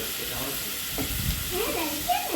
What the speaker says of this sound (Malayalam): ഇനി നമ്മൾ ക്യാരറ്റ് നമ്മൾ ചോപ്പ് ചെയ്ത് വെച്ച് ക്യാരറ്റ് ഇടണം